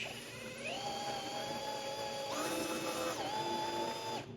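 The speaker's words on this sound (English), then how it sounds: "The bigger the chunk, the better it's drilling." A power drill whines steadily up close while boring through metal during an engine mount job, its pitch climbing, holding, dipping briefly and rising again before cutting off.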